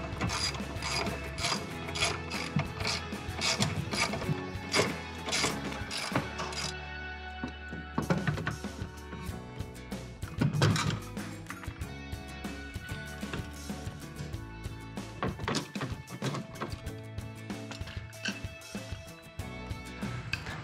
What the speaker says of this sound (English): Let's go ahead and take the crank assembly off.